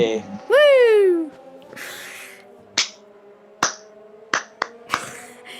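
A few scattered sarcastic hand claps sound in the background of a racing game stream, short and spaced out, mixed with a sliding tonal whoop and other noises at the start.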